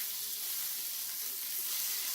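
Slices of hot dog fry in a pan with oil, giving a steady, close crackling sizzle that stays even and continuous with no talking over it.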